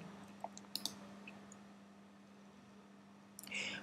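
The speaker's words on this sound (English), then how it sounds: "the user should click on the Submit button" Mouse clicks on a Submit button in a web-based simulation platform: a few small, sharp clicks in quick succession near the start, a quiet hum, then another short burst of clicking at the end.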